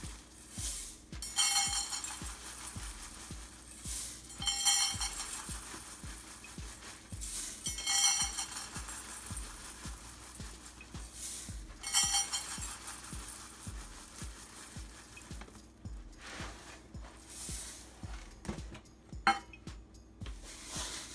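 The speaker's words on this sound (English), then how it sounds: "I'm going to stir this in a little bit before I add the rest" Rice Krispies and graham cracker being stirred into a sticky marshmallow treat mixture, with repeated soft scraping and stirring strokes plus light clinks of a spoon against the bowl, fairly close, with no talk.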